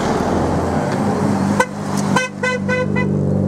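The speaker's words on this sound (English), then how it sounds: "all these cars have been passing us on the road" Rally cars pass along a rural road on the Kerry Way in Ireland near the Gap of Dunloe, their engines and tyres making a steady close rumble while several short, harmonic horn toots sound in a quick series.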